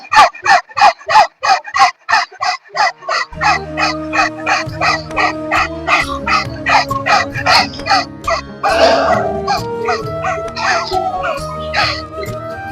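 A yoga group does dog-breath, forceful panting with tongues out, imitating a dog. A quick run of loud rhythmic huffs gradually dissolves into overlapping chatter and laughter from the participants.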